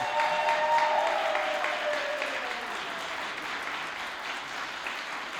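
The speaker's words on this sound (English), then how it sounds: "Round of applause for them before we start." An audience claps for the musicians before a 100th anniversary radio play performance, steady close applause that holds and slowly eases off a little by the end.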